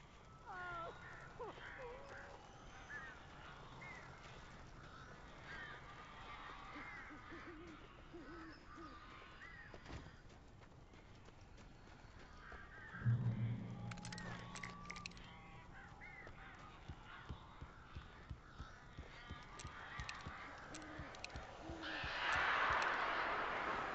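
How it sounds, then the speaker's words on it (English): Strange, aggressive birds in the video game Alan Wake: crow-like caws and hoots in scattered bursts across a tense ambient backdrop, with a louder flurry near the end. "These birds are weird."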